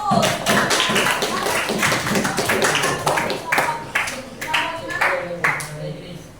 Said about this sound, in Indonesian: Kasih tepuk tangan untuk kelompok 5 dan kelompok 1.